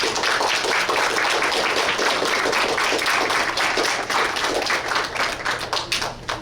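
Participants at a library science expo applaud their families, a dense, steady burst of many hands clapping close by that holds for several seconds before thinning out toward the end.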